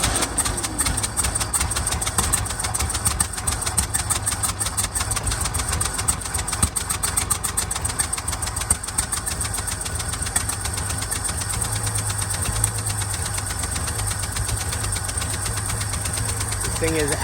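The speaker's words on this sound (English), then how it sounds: "Thing is actually idling right now." A Chevy 292 inline-six idles roughly and unhappily with the occasional backfire. The steady, close, rapid chugging rumble runs through the whole clip with irregular knocks.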